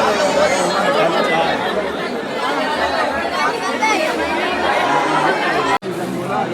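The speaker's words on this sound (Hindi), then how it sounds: "भीड़ देखो भाई, भीड़ बहुत" Dense, continuous chatter from a large crowd packed into a temple queue during Navratri, many overlapping voices close by at a steady loud level, with a sudden momentary dropout near the end.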